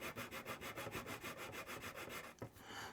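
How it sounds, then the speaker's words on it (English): A medium sanding stick smooths a plastic model kit part with quick, regular back-and-forth strokes, faint and close up, with no talking. "So I'm using a medium sanding stick right now because I don't want to do too much damage here."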